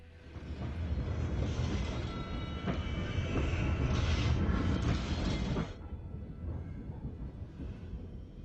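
A train passes through a tunnel with a loud, continuous rumble and clatter of wheels that holds for several seconds, then drops to a softer roar.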